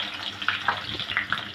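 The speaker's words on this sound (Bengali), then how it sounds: "তেলটা গরম হয়ে গেলে দিয়ে দেবো গোটা মরিচ, তেজপাতা, লবঙ্গ, গোলমরিচ, সবুজ এলাচ, দারচিনি আর দিয়ে দেবো হাফ কাপ পেঁয়াজ কুচি" Whole dried chillies, bay leaves, cloves, peppercorns, green cardamom, cinnamon and chopped onion frying in hot oil, a close steady sizzle with small crackling pops and a faint stirring scrape.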